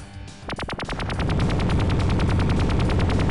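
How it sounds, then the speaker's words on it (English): Rapid gunfire rattles in the platform video game Jazz Jackrabbit 2, set in a frozen underworld level: a quick burst of separate shots that speeds into a steady, loud stream of fire, heard alone. "we just need to shoot our way to it"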